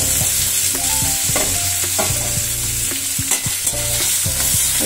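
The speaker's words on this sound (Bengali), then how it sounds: "এবারে ভালোভাবে মশলার সাথে একটু নেড়ে নেব" Potato and eggplant stir-fried in a pan with tempered whole spices, a loud close sizzle with rhythmic spatula scrapes and knocks against the metal, steady throughout and without speech.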